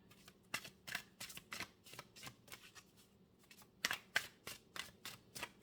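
Meditation cards shuffled by hand in repeated crisp riffles and flicks that come in steady bursts, close and clear with no voice over them.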